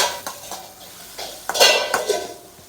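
Utensil scraping and clinking in a pan while stirring softened tomato and onion for kids' poha upma, a few close, irregular metallic strokes with no talk.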